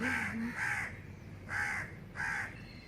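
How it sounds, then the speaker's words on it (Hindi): Two crows caw near a rooftop water tank, giving four harsh, close calls in two pairs over a few seconds, against a faint background. "आज दो कौवे आए हैं"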